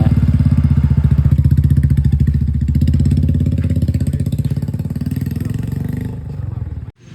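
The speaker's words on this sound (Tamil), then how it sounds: "நம்ம செல்வாவோட புல்லட் எடுத்துகிட்டு அப்படியே விமலன் ஒரு ரைடு போயிட்டு வந்தார்" A Royal Enfield Bullet motorcycle rides along with its loud, steady single-cylinder thump close up. The engine note shifts slightly before cutting off abruptly near the end.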